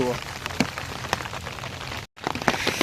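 Dense, steady rain patters on a surface with scattered sharper drops, briefly cut to silence near the end before resuming.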